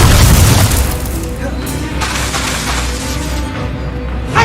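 An Incendio fire spell cast in a video game bursts with a loud, deep boom at the start, then fades into a lingering crackling rumble with a small pop at the end.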